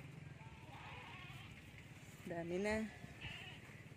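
Goats give one short, clear bleat outdoors in a garden, heard amid background chatter and a brief spoken phrase.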